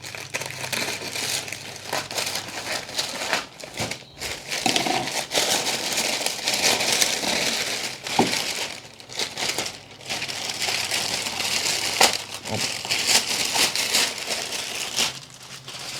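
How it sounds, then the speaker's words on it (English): Plastic packaging crinkling and crackling as a keyboard cover is unboxed, a close, continuous rustle with sharper crunches throughout. "So without further ado, let's unbox it."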